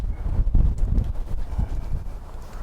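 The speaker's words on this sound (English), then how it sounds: "Really windy." Gusty wind blows through a backyard vegetable garden with pepper and tomato plants, buffeting the microphone with low, uneven rumbling gusts and faint rustling.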